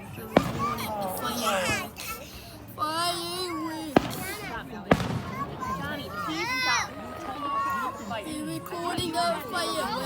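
Fourth of July fireworks go off outdoors as a few sharp, scattered bangs. Excited children's voices and chatter run throughout and largely cover the blasts.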